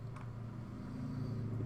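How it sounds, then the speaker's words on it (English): Low, steady rumble of road traffic heard through an open window on a rainy, wet day, a constant engine and tyre drone that swells slightly toward the end. "you may hear some road noise"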